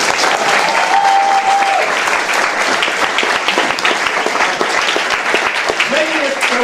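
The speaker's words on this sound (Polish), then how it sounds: "Wielkie brawa." Audience at a stage show breaks into loud, sustained applause that fills the whole stretch, dense and steady throughout, with a voice briefly audible over the clapping.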